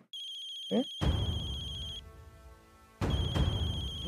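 A mobile phone ringtone rings in a drama scene, a steady electronic tone in two bursts separated by a short pause, with a brief vocal sound just before it starts.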